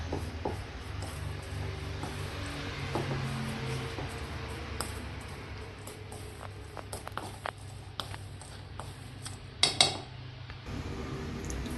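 Ragi (finger millet) laddu dough is stirred in a bowl with a spoon and worked by hand, giving faint scraping and light clinks over a steady low background hum.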